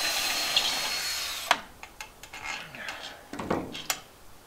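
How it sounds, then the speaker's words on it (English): A power drill whines briefly as it drills into metal, slow and under high pressure, during deck construction, followed by scattered clicks and taps of tool work on metal, fairly quiet and intermittent. "When you're drilling metal, it's slow and high pressure."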